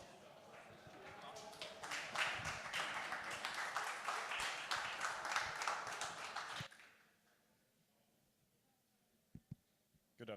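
Dense clapping from a conference audience at a tech talk at the Monaco Energy Boat Challenge fills the first several seconds, then cuts off abruptly to near silence with a few faint knocks at the end.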